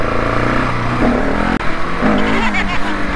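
A KTM 690 SMC R motorcycle engine revs hard during a wheelie on a road ride, loud and close with wind rush, the pitch surging and climbing over a few seconds.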